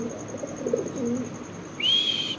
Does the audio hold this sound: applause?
no